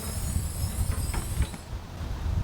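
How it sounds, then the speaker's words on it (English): Gas struts lift a Naturnest roof top tent open on a vehicle, giving soft mechanical creaks and fabric shifting over a low rumble. A high hiss fades out midway through. "the gas struts take over and they lift the tent up"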